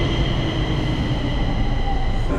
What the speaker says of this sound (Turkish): Şimdi ilk metroya bindik.